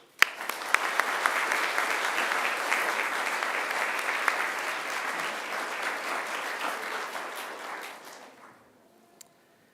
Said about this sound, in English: I'd like to offer them congratulations and a round of applause